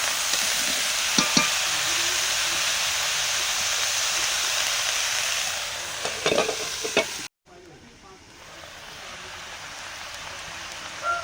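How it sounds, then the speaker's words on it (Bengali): Vegetables sautéing with spices in a pan give a loud, steady sizzle with brief stirring clatters. The sizzle drops abruptly to a softer, muffled hiss near the end. "ঢাকা দিয়ে সবজিগুলো কষবো ভালো করে মশলার সঙ্গে।"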